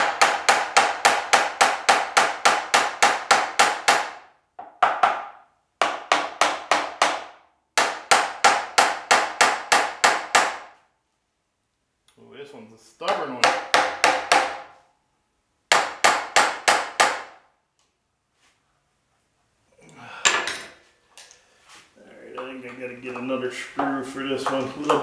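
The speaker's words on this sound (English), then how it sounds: "I had my hammer here. You can pound on these things a little bit too." A hammer pounds on a metal table shaft bracket in quick rhythmic bursts of sharp repeated strikes, broken by short pauses, with someone talking between some of the bursts.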